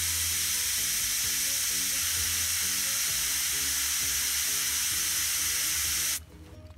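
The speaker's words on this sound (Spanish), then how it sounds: "Voy a revolver la pintura. En este caso yo siempre lo hago con aire." An airbrush blows a steady, loud hiss of air to stir paint in its cup before spraying a 1/35 scale AEC Matador model, the rushing spray continuous for about six seconds and then cutting off abruptly, with no talking.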